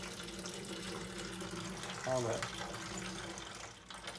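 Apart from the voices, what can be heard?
dirty water rinsed out of a rock tumbler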